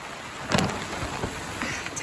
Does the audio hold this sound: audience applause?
no